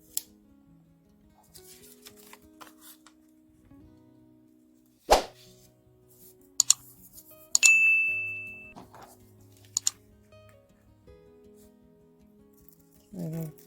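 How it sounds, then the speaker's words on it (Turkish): Clear packing tape is pulled and stuck onto a paper crown, with a sharp rip, a long stretching screech of tape unrolling, and scattered taps and crinkles of paper against a quiet background. "Şeffaf koli bandı ile bantlayacağız."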